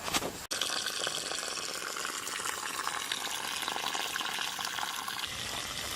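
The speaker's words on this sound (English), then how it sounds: "I'll fill this with some water and we'll see how my angle is" Water pours into a bucket for a simple garden watering setup, a steady close rushing stream that begins with a short knock and then runs on without a break, with no talking.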